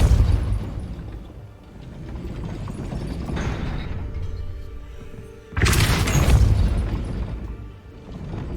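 Hogwarts Legacy Depulso spell blasts: a booming whoosh midway and a louder explosive burst later, each rolling off into rumbling game ambience.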